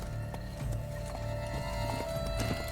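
Horse hooves clip-clopping at a quick, steady pace in The Witcher 3 on PC, the rhythmic thuds running continuously under a low game music bed, with no talk over them.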